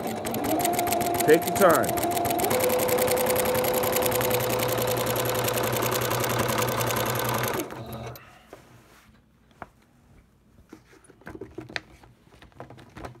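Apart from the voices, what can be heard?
sewing machine stitching in the ditch on a quilt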